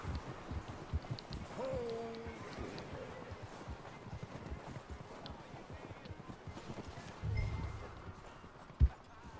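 Horse hooves clip-clopping in Red Dead Redemption II as a horse is brought in to be hitched, a steady patter of footfalls with wind noise and a few sharper knocks near the end.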